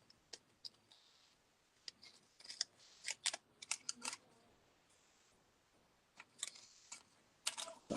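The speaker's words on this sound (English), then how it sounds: "Especially with big clunky scissors like this." Quiet, close snips of big clunky scissors cutting paper, irregular bursts of short crisp clicks and slicing with pauses between.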